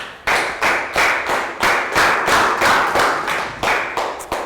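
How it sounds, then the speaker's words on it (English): Enthusiastic clapping from a Year 3 class of children in a classroom, a steady burst of many hands fairly close by with no talking. "Round of applause for Prel."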